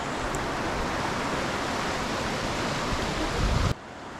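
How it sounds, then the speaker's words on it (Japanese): A river in the mountains of the Philippines rushes loudly and continuously, a dense broadband wash that drops abruptly to a quieter level near the end. "水音が聞こえてきました。 川がありそうですね。"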